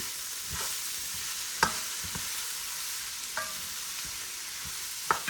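Cabbage and veggies seasoned with black pepper fry in a pan under a steady hiss of sizzling, with a few sharp scrapes and taps of a utensil stirring them.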